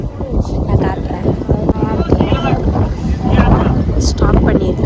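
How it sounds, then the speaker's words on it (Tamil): Strong wind buffets the microphone outdoors at a stop on a Chennai to Mumbai train journey, a loud continuous roar and rumble that fills the whole stretch, with people talking underneath. "செம்ம காற்று"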